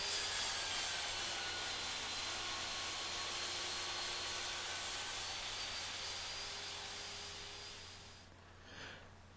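Steady, loud whine of a power tool cutting a dado across a wood board with a 3/8 inch bit, running continuously for several seconds before winding down near the end.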